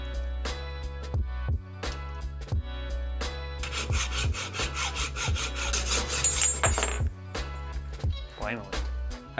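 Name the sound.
saw cutting bicycle fork steerer tube in saw guide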